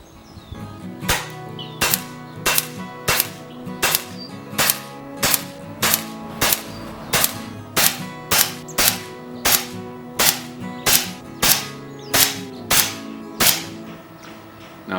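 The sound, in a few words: FX air rifle firing .177 slugs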